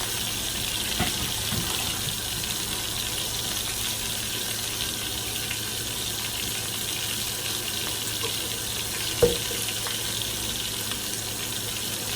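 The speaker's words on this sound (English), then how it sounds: "I'm going to run some cold water, get these noodles over here so I can start the cooking process." Cold water runs from a kitchen sink tap in a steady, unbroken hiss and splash, with a single faint clunk partway through.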